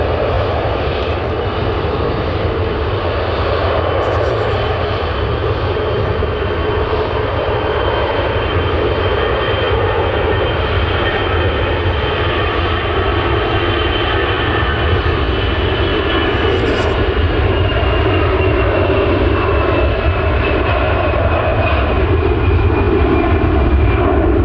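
EasyJet Airbus A320 jet taking off for Athens at Manchester Airport, a loud, sustained engine roar that holds steady and slowly shifts as the aircraft climbs away, with no talking.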